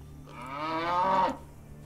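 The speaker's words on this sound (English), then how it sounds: "Very loud moo." A cow on a farm in the game ATOM RPG lets out a single long, loud moo that swells and then cuts off, alone with no talk.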